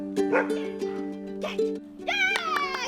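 A dog barks and yips in a series of short bursts, moderately close, over a steady musical background with no clear talk.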